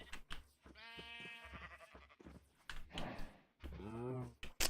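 Sheep in Minecraft bleat several times, drawn-out wavering baas close by, interspersed with clicks and brief muffled sounds.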